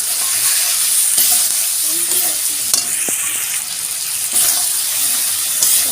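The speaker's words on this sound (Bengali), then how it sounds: "মশলাটা দিয়ে ভালো করে আমি কষিয়ে নেব" Spice paste sautéing with pointed gourd and potato in a pan for a thin rohu fish curry, a steady loud sizzle and hiss running throughout with occasional stirring scrapes, no voices.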